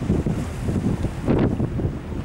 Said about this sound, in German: jetzt zu windig hier